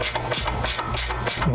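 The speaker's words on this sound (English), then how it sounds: "Start by getting this ball joint loose." A tool hammers rapidly and loudly in a steady, pulsing rhythm of repeated blows while loosening a ball joint on a lowered F-150 truck's A-arm.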